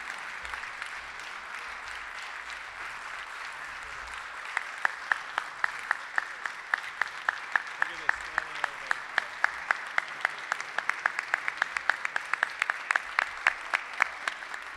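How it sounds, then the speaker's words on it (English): A Rotary meeting audience applauds teachers on an appreciation day, starting as soft scattered clapping and swelling into sharp, rhythmic, fairly close claps that carry on steadily for over ten seconds. "Let's honor the teachers one more time with a round of applause."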